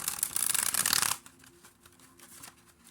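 A quick burst of tarot card shuffling, a dense riffling flutter for about a second, then it stops and leaves quiet room noise.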